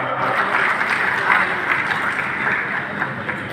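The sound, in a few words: audience applause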